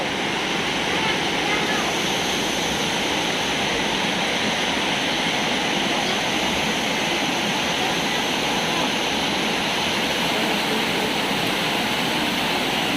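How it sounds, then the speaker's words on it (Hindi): Patalganga river flowing inside an ashram, a steady broadband rush of moving water that continues unbroken and fairly loud throughout, with no voices over it. "आश्रम के अंदर ही ये नदी बहती है।"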